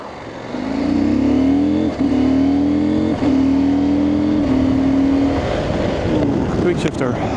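CFMOTO 800MT Explore motorcycle accelerating with quick shifter, engine pitch climbing and dropping sharply at each clipless upshift in a fast series, loud and close, with wind noise rising near the end.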